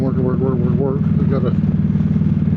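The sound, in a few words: motorcycle riding on a road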